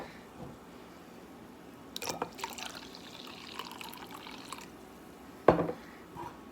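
Vitamin C and hydrogen peroxide solutions poured into a container for an iodine clock reaction, faint trickling and splashing with a couple of brief louder pours and a sharp clink near the end, quiet and without talk.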